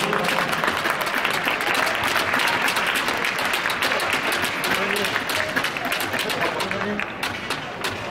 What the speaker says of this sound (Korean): 격려 박수를 부탁드립니다